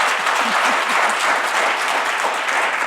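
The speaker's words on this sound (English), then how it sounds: "I think we should give our panelists a round of applause." Conference audience applauding a panel of speakers, a dense, even roar of many hands clapping that stays loud and steady throughout.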